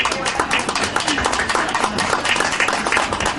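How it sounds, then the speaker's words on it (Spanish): Audience applause at a cultural event honoring a writer, steady dense clapping from a crowd filling the room throughout, fairly loud and continuous. "para quienes les pido un aplauso"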